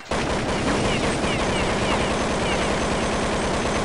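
An AK rifle fires in sustained, loud automatic bursts in a Counter-Strike zombie server video game, the rapid shots running nonstop and crowding together with no pause.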